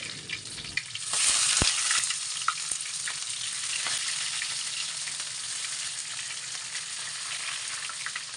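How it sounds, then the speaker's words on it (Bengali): Bottle gourd leaf parcels stuffed with chepa shutki fry in hot oil in a pan. A loud, steady sizzle rises sharply after a second, with scattered pops and spatters and the occasional scrape of stirring. "পাতাগুলো আমি উল্টাভাবে এভাবে ভাজছি"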